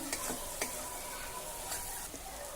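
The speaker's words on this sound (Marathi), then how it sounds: "सर्व मसाले नीट मिक्स करून घेऊ, परतून घेऊ।" Spices and kasuri methi sauté in a pan for paneer bhurji, giving a steady, fairly faint sizzle broken by a few short stirring scrapes, with no voices.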